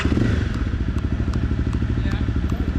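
A trials motorcycle idles with a steady, close, thumping beat at the sign-on for the 2023 Exeter Trial, while people talk over it.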